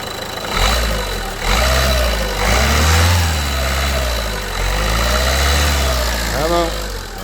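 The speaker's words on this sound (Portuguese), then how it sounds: "Agora vai lá dentro acelerar um bocadinho o motor." Renault Clio 1.5 dCi diesel engine, with a leaking engine breather membrane, revved in short bursts from idle: a close, rough mid-pitched drone rising and falling several times, with a brief voice near the end.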